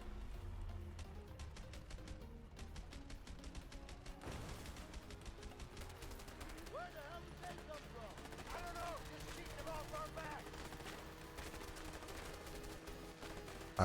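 Gunfire in the video game A Way Out, dense rapid bursts of shots forming a steady loud barrage, with a bigger blast partway through, set against continuous game music and effects.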